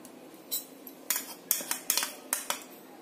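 A spoon scraping and tapping against a pan while ground roasted cashew powder is added to khoya, several sharp metallic clinks in quick irregular succession, close and clear.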